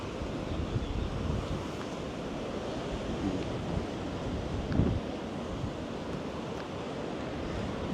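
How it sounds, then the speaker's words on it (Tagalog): Strong wind blowing at Bondi Beach in Sydney, a steady broadband roar with microphone buffeting and surf washing underneath, continuous and fairly loud throughout with no talking. "Ang lakas ng hangin dito and malamig din."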